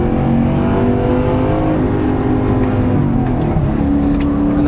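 A Porsche 928 engine runs hard on the Nürburgring, a loud continuous in-car drone of revs rising and falling steadily throughout, with no talk over it.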